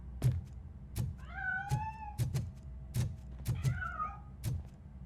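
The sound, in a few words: cat meowing in the video game Robocop Rogue City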